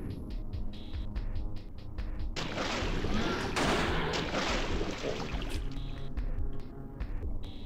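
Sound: gunshots in a video game

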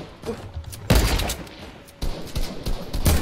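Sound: gunfire in Fortnite video game

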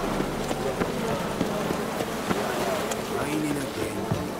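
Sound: rain in video game The Witcher 3

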